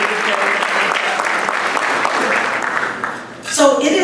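Applause from an audience at an Urban League of Greater Atlanta annual meeting honoring the city's mayor, a dense sustained wash of clapping that dips and then swells again near the end.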